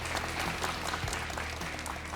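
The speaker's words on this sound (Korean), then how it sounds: "이분들께도 박수 한번 드릴까요?" Studio audience at a Daegu TV crowdfunding special for social enterprises breaks into steady, dense applause, a continuous wash of clapping filling the room with no voices over it.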